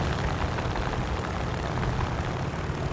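A propeller-driven plane in War Thunder, likely a B-17 bomber in a ground realistic battle, drones steadily throughout with a dense, continuous engine roar, loud and unbroken with no pauses.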